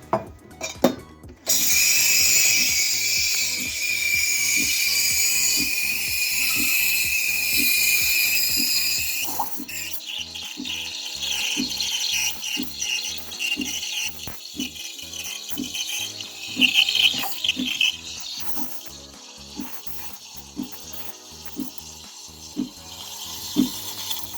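A loud hissing espresso machine steam wand jet roars steadily, then shifts to a lower gurgling, sputtering froth as milk is frothed, with a regular ticking pulse running underneath throughout.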